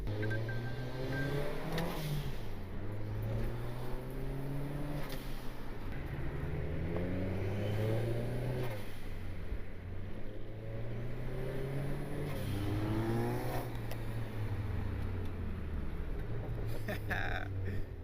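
A turbocharged Honda Civic fitted with an eBay turbo runs at wide open throttle, its engine note rising and falling in repeated loud pulls, with a steady roar throughout.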